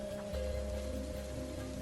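Stormy rain falls in a steady, dense hiss, with a low hum and faint tonal music underneath throughout.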